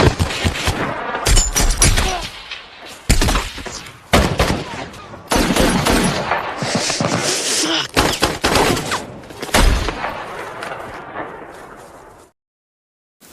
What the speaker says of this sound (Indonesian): Serangan yang tidak ada habisnya membuat Marpi dan Matt harus tertembak